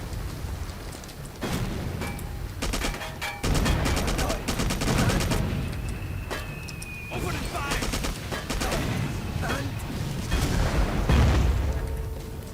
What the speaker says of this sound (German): Wir werden beschossen.